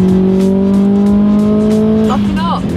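Race car on the Castle Combe circuit during a track day with a steering fault, engine droning steadily before a brief high tyre squeal as the wheels lock up under braking, loud and close.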